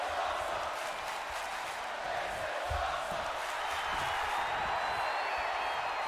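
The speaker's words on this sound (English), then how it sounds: "The crowd with "This is awesome" chant." A wrestling video game crowd roars in a continuous, dense wash of noise, with a rhythmic chant faintly pulsing through the steady din.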